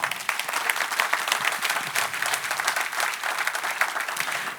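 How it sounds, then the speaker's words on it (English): Audience applause at a Ruby gems tech talk, a dense steady clapping from a sizable crowd that fills the whole stretch at even loudness with no voices over it. "give them a round of applause"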